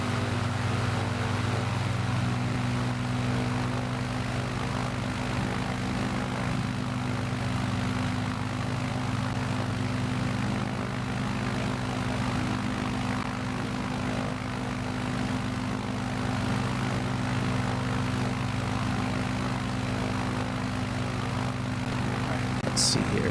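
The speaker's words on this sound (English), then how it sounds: "I just wish we had a faster plane for this trip." A propeller plane flies in Microsoft Flight Simulator 2020 on a bush trip, its engine drone steady, loud and continuous with strong low hum throughout.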